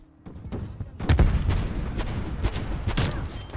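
Akimbo pistols fire in rapid bursts in a Black Ops game: sharp, closely spaced shots crack out several times over a few seconds, loud and punchy, with no talk over them.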